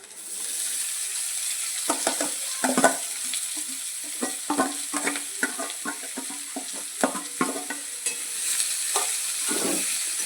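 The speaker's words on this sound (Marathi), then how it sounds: "आणि कांदे ॲड करू आपण." Onions fry in a pan for street-style anda ghotala, a continuous sizzle broken by frequent sharp stirring and scraping clatters, close and without speech.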